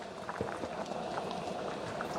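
A big pot of Jamaican yardman soup with beef bone, chicken back and chicken neck boils in a short close stretch, soft bubbling and popping at a low, steady level with no talk.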